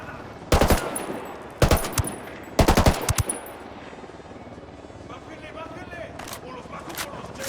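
Sniper gunfire in Ghost Recon Wildlands: several loud, sharp cracks in close succession early on, then quieter distant shots, with voices talking around them.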